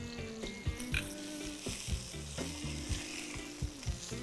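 Freshly flipped catfish sears in a pan with a soft, steady sizzle punctuated by light clicks and scrapes, faint and close with no talk.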